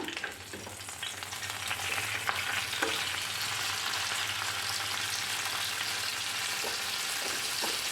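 Sardines cook on a banana leaf over a stove and are turned partway through, giving off a steady, close sizzle with a few soft scraping touches and no talking.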